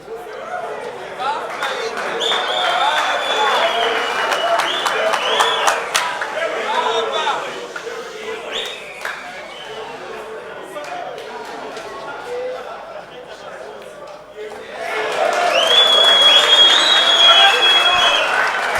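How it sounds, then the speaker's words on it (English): Crowd at a pool match between Ugandan and Malawian players claps and cheers in a broad, steady wash of applause, easing mid-way and then swelling louder again near the end, with voices mixed in. "Crowd is clapping and cheering."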